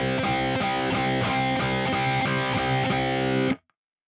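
Distorted electric guitar attempting a harmonic while the string is fretted too hard, producing a muddy, muted buzzing tone in a steady run of repeated notes that cuts off abruptly near the end.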